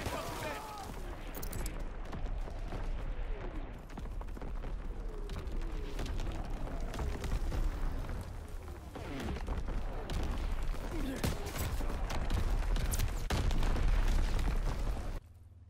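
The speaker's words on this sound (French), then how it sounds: "Tir d'artillerie ennemi." Enemy artillery fire in a video game: repeated booms and bursts under a steady rumble, with whistling shells and scattered pops across the battlefield, joined by a voice speaking.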